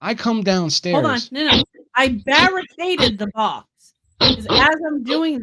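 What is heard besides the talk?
No everyday noise stands out behind the speech.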